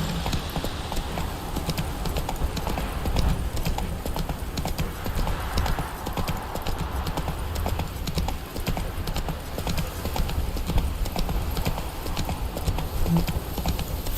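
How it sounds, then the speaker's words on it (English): Hooves of the horse Roach in The Witcher video game clip-clop at a steady gallop for a long stretch, loud and close, with a brief snort or whinny and a short spoken line over it. "Whoa there, Roach"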